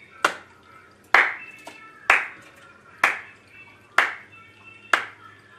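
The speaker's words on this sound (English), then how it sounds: "We're going to clap" Six sharp, evenly spaced hand claps, roughly one per second, loud and close in a quiet room, each with a short ringing tail, made for a wireless video transmitter latency test.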